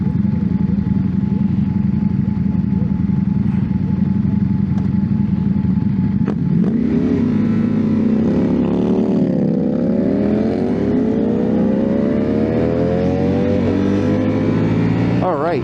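A 2024 Ducati Panigale V4S motorcycle engine idling, then revving and pulling away with rising and falling engine pitch, loud and close, with a rider talking over it.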